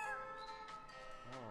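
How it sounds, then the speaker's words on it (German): A cat meows in the Espresso Tycoon video game, two or three short, fairly faint synthetic mews in quick succession, heard alone over a quiet game background. "Hier ist eine Katze."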